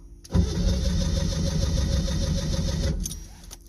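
An old car that has sat unused for a long time cranks briefly and catches, running for a few seconds in a close, steady engine burst before cutting off abruptly, with a faint clink near the end.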